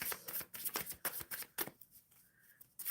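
Tarot cards shuffled by hand in a quiet room, a run of crisp riffling bursts and soft slaps in an uneven rhythm, close and clear with no voices.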